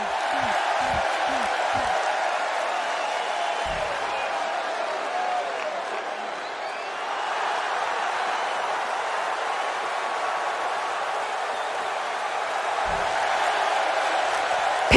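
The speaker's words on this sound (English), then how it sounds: "Incredible crowd," A wrestling arena crowd in the WWE 2K26 video game cheers in a steady, distant-sounding roar, with a few sharp thumps near the start and again near the end.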